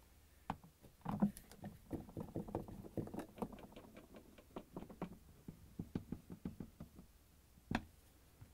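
A Phillips screwdriver drives screws to secure a panel on a Samsung refrigerator, making faint, close, irregular ticking and knocking clicks with a few louder taps.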